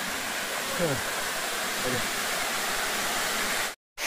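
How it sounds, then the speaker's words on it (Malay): A waterfall at Bukit Ladut gives a loud, steady, close rush of broadband noise. It is broken briefly by a voice and ends in a sudden cut to silence. "Kita jumpa air terjun yang menarik di Bukit Ladut."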